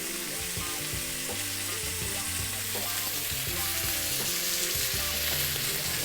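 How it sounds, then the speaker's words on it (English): Chopped thin spring onions fry in melting miso butter, giving a steady, close sizzle that runs throughout beneath continuous background music. "Go in with our spring onions that we chopped earlier."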